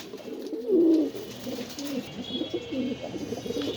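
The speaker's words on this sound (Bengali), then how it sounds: "এটা হলো আপনার গ্রিন ট্যাগের কবুতর" Green-tagged pigeons kept for sale in Mirpur give soft, low, close cooing, with one fuller coo followed by quieter repeated murmurs.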